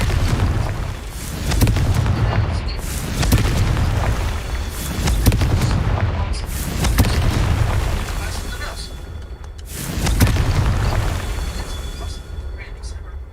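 Repeated booming blasts from the Confringo fire spell in the video game Hogwarts Legacy, heavy low-end explosions recurring every few seconds over a dense rumbling backdrop.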